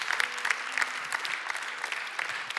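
Church congregation applauding, a steady patter of many hands clapping at moderate volume for a couple of seconds, with distinct individual claps audible.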